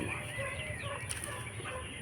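Chickens cluck softly in the background of a backyard farm amid a dense, steady farmyard ambience, with a faint high whine running throughout.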